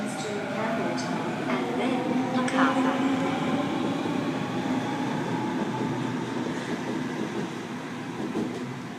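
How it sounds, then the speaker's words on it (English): A Sydney Trains Waratah A73 set pulls away from platform 3 at Glenfield on a MacArthur service, giving a steady continuous rail rumble with faint wheel noise throughout, heard from a window view with no clear talk. "Waratah A73, departing platform 3 for a MacArthur service."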